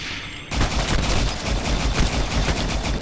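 Cerberus gun in Shadow Warrior 2 firing a sustained rapid burst, loud and dense, starting abruptly after a brief quiet moment and continuing without pause.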